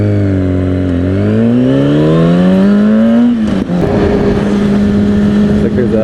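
Kawasaki ZX6R sport bike accelerating up through a gear, its loud exhaust note rising in pitch, then dropping on a shift and holding a steady high drone; continuous and close.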